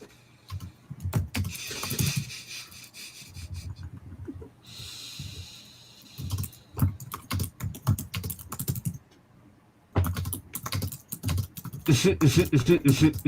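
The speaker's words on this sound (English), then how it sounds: "That sounds like angry typing." Rapid, hard keystrokes on a computer keyboard in bursts, pausing briefly between flurries, with some breathing audible nearby.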